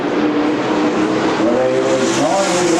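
NASCAR K&N Pro West Series stock cars racing in the Evergreen 200 roar continuously around the track, loud and dense, with engine pitches rising as cars pass.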